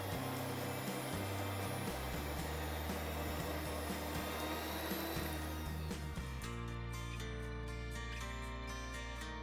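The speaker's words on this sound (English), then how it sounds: "Then use a mixer to break up all the lumps." Electric mixer breaking up lumps in yogurt pie batter, a steady loud motor whine that stays constant throughout and shifts to a lower, smoother tone partway through.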